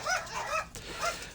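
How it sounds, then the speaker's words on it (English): Small Pomeranian dogs yap in two short bursts of high, sharp barks, fairly close, indoors with no talking over them. "sorry about my dogs"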